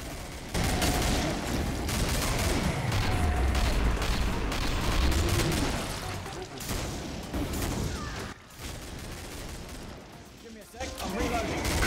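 A hard-kicking gun firing in Killing Floor, dense continuous gunfire and booming effects under overlapping talk, with the game's sound effects sweeping beneath.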